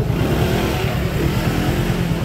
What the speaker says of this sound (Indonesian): Teman-teman kalau naik ojek ini harus pegangan yang kuat ya, karena jalannya cukup kencang alias ngebut